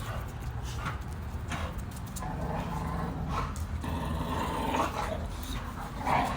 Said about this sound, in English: This is what we learned from dogs fighting.